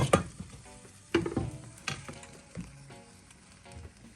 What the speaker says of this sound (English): I'm going to go ahead and add a little bit of this broth to the rice.